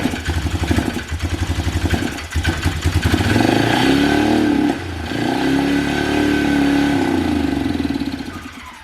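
A freshly rebuilt Polaris Trail Boss 330 ATV engine runs close by, sputtering unevenly at first, then revving up into a steady, rising and falling drone with a short dip midway.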